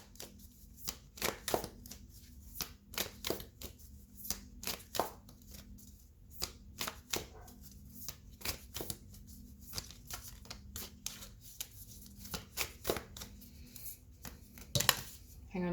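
A deck of tarot cards is shuffled by hand in soft, riffling bursts with brief pauses between them, close and fairly quiet.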